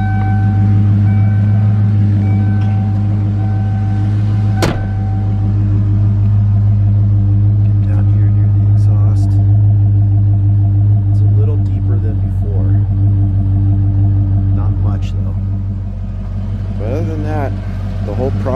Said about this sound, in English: Go ahead and get back outside the car while it's running here.